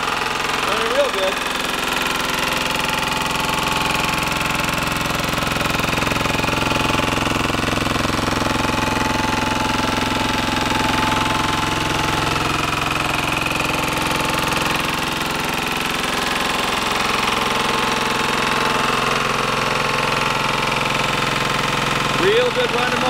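A Lombardini diesel engine on a Wanco arrow board sign trailer runs at a steady, loud idle, with even knocking and vibration throughout.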